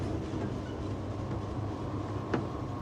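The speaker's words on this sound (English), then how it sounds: "it's just the noise of the engines, I think. Like electric noise." Steady electric engine hum from a vehicle on an alien planet in an exploration video game, a continuous low drone with a faint whine, plus one brief sharp tick near the end and no talking.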